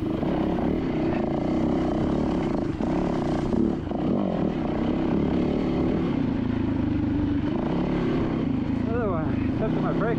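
An off-road motorcycle ridden on a hare and hound trail in District 37, with a continuous loud engine drone that fluctuates under close, breathy talking throughout.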